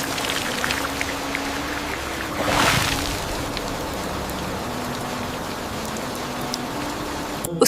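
Steady rain pours down as a continuous broadband hiss, with a low droning tone running underneath and a brief louder surge of rainfall midway; no voices are present.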